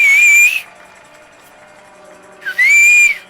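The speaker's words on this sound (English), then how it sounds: "My new whistle works great. Just let more air through." A new whistle blown twice, each a loud, steady high tone of about half a second, with a quiet gap between the two blasts.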